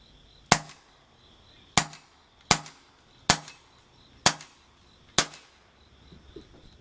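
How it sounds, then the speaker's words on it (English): Black Ops Wolverine CO2 airsoft pistol, a non-blowback model, test fired six times in sharp, loud, evenly spaced cracks with short decays and quiet gaps between shots. "This is a test fire of the Black Ops Wolverine."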